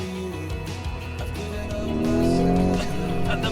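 A Lamborghini Urus S engine rises in pitch as the throttle opens on an Alpine mountain pass, a loud sustained growl that swells and climbs toward the end.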